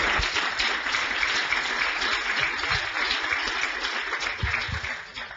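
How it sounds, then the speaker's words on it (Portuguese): An audience at a data science talk applauds the speaker, a continuous wash of clapping from a modest crowd, fairly even in level and tapering slightly at the end, with no voices over it. "pedir uma salva de palmas para o nosso orador"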